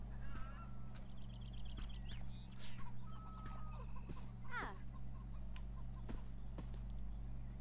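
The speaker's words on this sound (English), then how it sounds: "No, this time it was just chickens." Chickens in the video game Beyond Eyes, a few scattered clucks and squawks over a steady low ambient hum, with a brief rising bird call midway.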